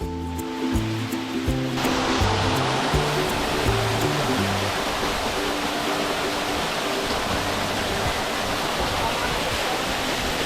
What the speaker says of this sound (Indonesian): bulir air terjun ini terlihat seperti buah-buah kecil